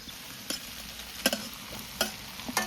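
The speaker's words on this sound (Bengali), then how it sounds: "এখন আমি ভেজে রাখা চিকেনগুলোকে দিয়ে দেবো।" Pre-fried chicken pieces tossed into a pan of mixed vegetables, a steady low sizzle broken by several sharp spatula scrapes and clacks at irregular intervals; no one speaks.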